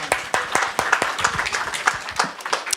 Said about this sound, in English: the entire panel need another round of applause